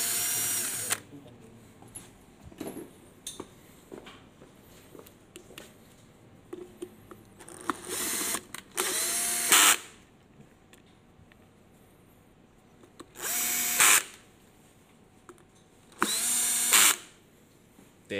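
A power drill removes screws from an e-scooter in several short whirring bursts separated by quiet pauses, close and fairly loud, with small handling clicks in between.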